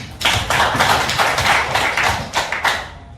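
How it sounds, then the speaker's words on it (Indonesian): Indoor applause from a class of student teachers at a teaching practice session, scattered hand claps with a few louder bursts, fairly close and lasting about three seconds without talk. "kasih tepuk tangan kita."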